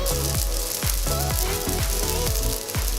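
Hotteok, sweet Korean pancakes, sizzle in sunflower oil in a frying pan, with a steady dense crackle and repeated soft pressing thumps as the dough is flattened, close and loud.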